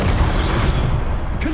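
A fire spell cast in Hogwarts Legacy bursts out as a loud, dense whoosh that holds steady for over a second, with a brief tonal flourish near the end and no talking.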